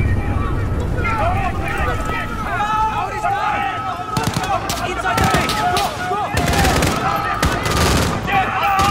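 Gunfire in the video game Call of Duty: Modern Warfare: a loud, chaotic mix of repeated shots and heavy blasts in the second half, with shouted voices and game noise underneath throughout.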